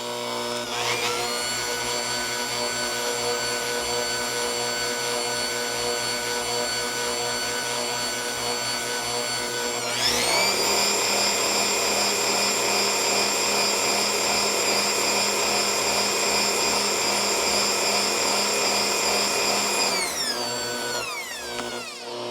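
An electric mixer beats apple browned butter frosting with a steady, droning motor whine. The pitch jumps higher halfway through as the speed goes up, then the motor winds down at the end.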